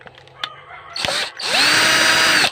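Magnetic electric screwdriver backing screws out of a power inverter casing: a few clicks and handling knocks, then a brief whirring spin, a pause, and a longer steady high motor whine, close and loud.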